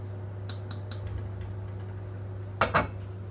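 A spoon stirs cocoa powder into a pot of ration chocolate cake batter that has just come off the stove. Three quick metallic clinks come first, then softer scraping, and two louder knocks of the spoon against the pot follow near the end.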